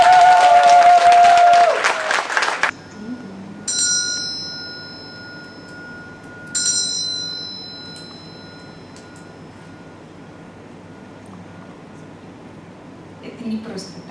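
Audience applause at a training session in Moscow, greeting the perfume company's advisors: a dense burst of clapping for about two and a half seconds that stops abruptly, followed by a few ringing bell chimes in a quiet room.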